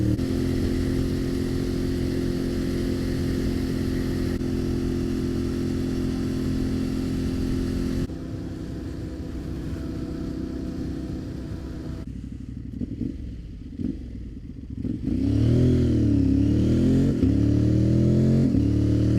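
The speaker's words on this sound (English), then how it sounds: "That motorcycle was a cop." A police motorcycle passing on the road, heard from a moving motorcycle: a steady loud engine drone and wind roar, shifting as engines rev, with a rising and falling whine near the end.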